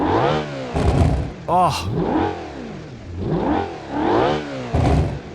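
Civetta Bolide engine in BeamNG rolling through a Nordschleife corner, revving up and down in repeated rising and falling sweeps with gear changes, loud and close, with a brief exclamation from a voice.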